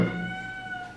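A cat meows from behind a door, wanting to come inside; a single sustained, tonal call with clear harmonics, heard alone and at moderate distance across the whole second.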